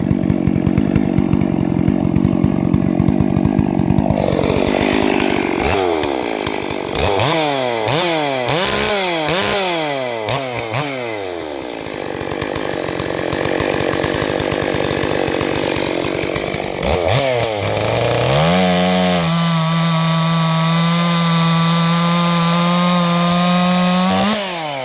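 A ported Stihl MS440 chainsaw cuts through wood, loud and close, its engine revving up and down repeatedly through the cuts before settling into a steady high whine.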